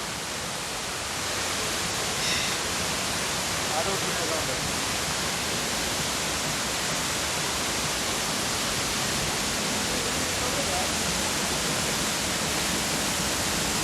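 A large waterfall roars as a dense, constant wash of falling water, loud and close, filling the whole scene without a break.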